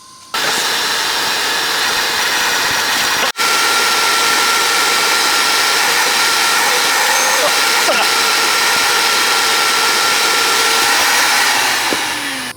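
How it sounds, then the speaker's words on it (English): A vacuum cleaner drones loudly and continuously while cleaning a car interior, a steady high-pitched whine with a brief cut near the start and slight shifts in pitch as the nozzle moves. "I gotta vacuum it to make sure it's all good, and I ain't got no crunchy bits in the floor"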